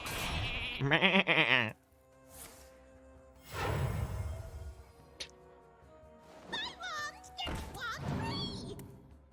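Sheep bleating in the Hearthstone card game, several wavering cartoonish bleats spaced between whooshing and thunking game effects, with a voice talking over parts of it.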